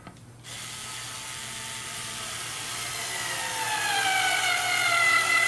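A steady mechanical whir of an electric screwdriver builds and rises in pitch, with a ratcheting, grinding edge as a screw is driven into a block, close and fairly loud.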